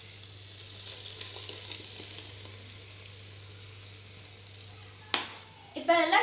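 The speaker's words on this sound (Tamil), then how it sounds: "இப்போ வெஜிடபிள்ஸ் வணக்கின பிறகு இப்போ நம்ம அரைச்சதை இதில் ஊற்றிக்கோங்க" Ground masala paste hits a pan of sautéed vegetables for a vegetable kurma, bursting into loud close sizzling and frying after a stretch of quieter pan hiss and a steady low hum.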